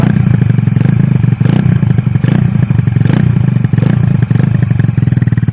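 A loud, nearby Kawasaki KSR Pro mini stunt bike engine runs with a rough, rapid chug and a few brief rev surges, with clattering mechanical noise.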